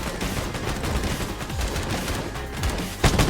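Gunfire in a video game, a dense stretch of rapid shots with a sharper burst near the end, continuous and loud with no talking.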